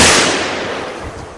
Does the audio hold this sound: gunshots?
yes